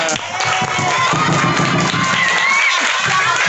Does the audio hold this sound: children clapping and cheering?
yes